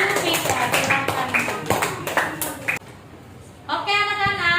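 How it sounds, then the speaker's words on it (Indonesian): A classroom of students clapping for a student group, a short burst of brisk, irregular claps that drops away, followed by a clear ringing tone. "Tepuk tangannya untuk kelompok Jupiter."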